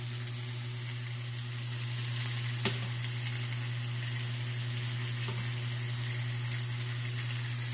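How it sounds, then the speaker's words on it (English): Swai fish pasta and vegetables sauté in garlic butter in a pan, giving off a steady, close sizzle with an occasional stir or clink. "all I'm doing is kind of like sauteing the pasta with the vegetables"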